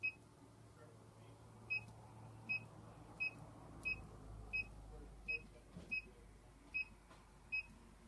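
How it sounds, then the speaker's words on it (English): A series of short, high electronic beeps from a 17410 Flashboard control panel when saving repeats at a steady pace, about ten in all, over a faint low hum. "You want to make sure you hear that little beep when you save it."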